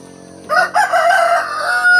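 A rooster crows loudly and close by, one long drawn-out cock-a-doodle-doo call near a rural house with a chicken coop.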